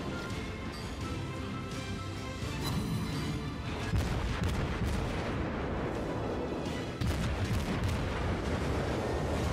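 Naval gunfire in the World of Warships game: heavy, continuous booming artillery with rumbling blasts layered over one another, loud and dense throughout.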